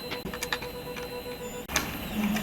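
A tool works at the rear bolts holding an e-bike kit motor mount, making rapid ticking and ratcheting clicks close by, with a faint steady hum underneath.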